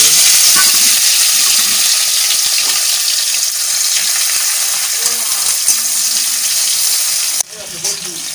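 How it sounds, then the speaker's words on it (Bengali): Chopped onion, dried red chili and a bay leaf hit hot oil, giving a loud, continuous close-up sizzle that runs for several seconds, then drops abruptly near the end as the hiss softens. "তেল গরম হয়ে গেছে, আমি একটু শুকনো লঙ্কা, একটা তেজপাতা ফোড়ন দিলাম, পেঁয়াজ, একটা পেঁয়াজ কুচিয়ে রেখেছিলাম সেটা দিলাম।"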